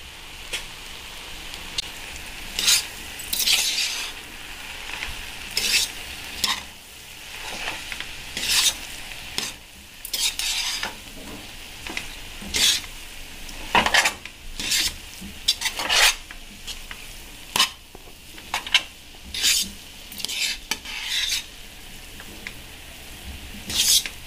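Boiled rice stir-fried with Chinese masala, a spatula scraping and tossing it against the pan in repeated bursts under a low, steady sizzle, close and fairly loud with no talking.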